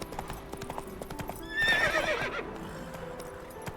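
Hooves of Roach, a game horse, clip-clop in a steady rhythm, joined near the middle by a loud whinny that fades back into the hoofbeats.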